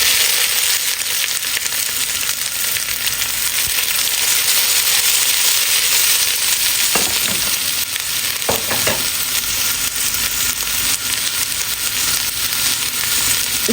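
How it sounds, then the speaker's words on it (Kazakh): Pumpkin filling for samsa frying in hot oil gives a steady, loud, close sizzle with a few faint clinks, and no voices. "Енді қызып тұрған майда қуырып аламыз."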